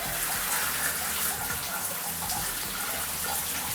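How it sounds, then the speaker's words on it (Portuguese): A shower runs at low water pressure, close to zero, its weak flow making a steady, thin hiss of falling water that continues without a break. "A pressão vai quase a zero aqui e a vazão do chuveiro diminui bastante"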